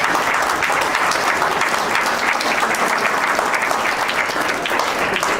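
Dense, continuous applause fills the hall at a political seminar, loud and sustained throughout with a steady wash of many hands clapping.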